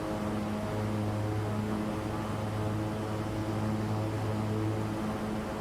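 Turboprop propellers on a simulated King Air 350 drone steadily as RPM is brought down to 1600, a constant low hum with tonal layers and no talk.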